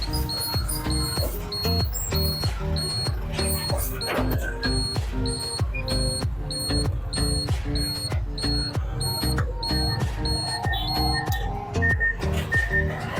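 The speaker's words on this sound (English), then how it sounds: "That beeping sound you hear sometimes in our video, this is our indicator." Rapid electronic beeps repeat steadily throughout, a car turn-signal indicator chime set over a constant background hum, fairly loud and close.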